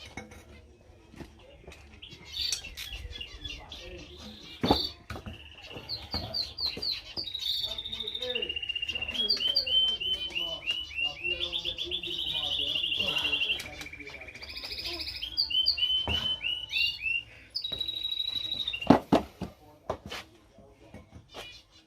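Small birds chirp and tweet in quick bursts, high and close, mixed with clinks and clatter of handled objects and some talking.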